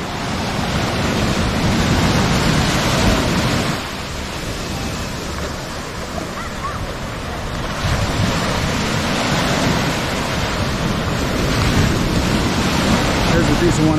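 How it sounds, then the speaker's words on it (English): Ocean surf of small 2 to 3 foot waves breaking at Nags Head beach on North Carolina's Outer Banks, a loud continuous wash with surging swells and wind buffeting the microphone. "And these are only 2 to 3 foot waves."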